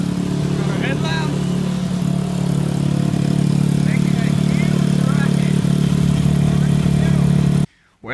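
A reverse trike's engine idles steadily while warming up, a loud low rumble close by that runs almost to the end before cutting off briefly; a voice is heard faintly over it.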